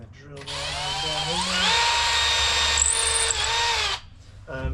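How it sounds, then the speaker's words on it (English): A power drill boring pilot holes into a kayak gunwale on a fuselage-style skin-on-frame build, a loud steady whine rising in pitch as it spins up, held for about three seconds, then stopping, with a brief spoken word. "now we're going to drill our pilot hole, or our holes"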